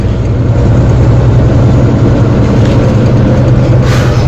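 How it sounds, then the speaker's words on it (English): A 2018 Volvo truck's heavy engine drones loud and steady as the driver shifts gears without the clutch, a dense low rumble with no break and no voices. "he's going to show you how it's done to shift without using that clutch"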